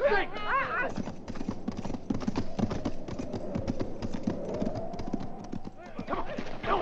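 Horses' hooves clatter and clip-clop in a fast, busy rhythm close by, under shouted voices, with a horse whinnying near the start and again near the end.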